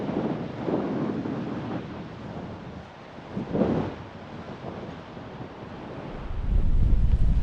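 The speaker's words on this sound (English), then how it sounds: "It's very windy." Strong storm wind at Xghajra, Malta, roars across the microphone in heavy gusts, easing briefly and then surging into a loud, low buffeting near the end, with no talking.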